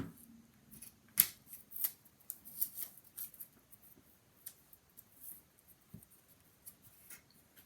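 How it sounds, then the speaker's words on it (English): Construction tape pressed and rubbed around the outer edge of a lid, with soft scratchy crinkles and a few sharp tearing snaps, faint and close against a quiet room. "we're also going to put tape around the one outer edge"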